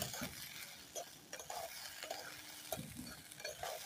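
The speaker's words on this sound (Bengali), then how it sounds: "চিনিটা দিয়ে এবার একটু কষিয়ে নেব।" Sugar frying in a pan for Bengali basanti polao, stirred with a utensil: a soft continuous sizzle broken by irregular scraping and clinking strokes, close and fairly quiet.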